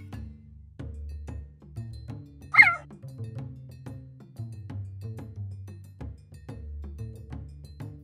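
A single sharp, high chirping call rings out briefly amid low rumbling and scattered soft clicks, fairly close and distinct against the quiet background.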